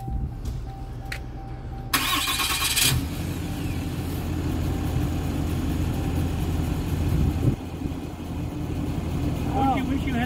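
A 2022 Ram 2500 diesel pickup truck starts with a push button, its engine catching with a loud surge and then settling into a steady, low diesel rumble at close range, with a person speaking briefly.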